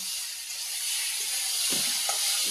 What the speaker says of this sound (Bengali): সবজিটা ভালো করে কষিয়ে নিয়েছি জল দিয়ে দেব